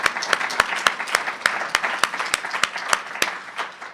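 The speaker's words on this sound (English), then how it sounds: "Please join me in applauding each of them along with Con Edison and all of Milano's fabulous supporters." An audience at a city climate-change event at a university gives sparse, moderate applause, with distinct individual claps standing out over a soft, steady wash of hands, fairly close and without talking.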